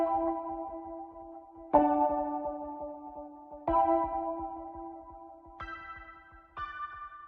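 A synthesizer sustains one chord at a time, each held for several seconds before the next enters with a fresh attack. The chords are spaced well apart, play alone, and change about five times, with the last two pitched higher.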